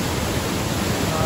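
Water rushes over waterfalls along a wooded hiking trail at Walls of Jericho, Alabama, a close, loud, unbroken hiss and splash of churning flow filling the whole moment.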